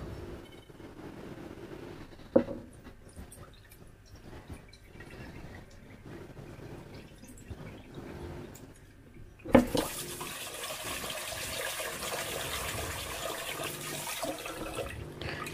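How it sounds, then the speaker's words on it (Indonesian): Dried cassava pieces being washed in water, with faint sloshing and dripping, a couple of sharp knocks, then a louder steady rush of running water that continues to the end. "Kemudian kita cuci bersih ya. Buang kotoran-kotoran yang mengambang di atas."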